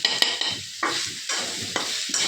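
Radish greens with green chillies and black cumin frying in a pan sizzle close up, broken by several sharp scrapes and clatters of stirring in quick succession.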